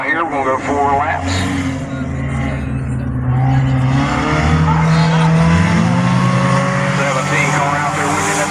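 Four-cylinder race cars run qualifying laps at Beckley Motor Speedway in West Virginia during an Enduro 100 event: a steady engine drone with rising and falling harmonics and faint tire squeal, under a commentator's voice.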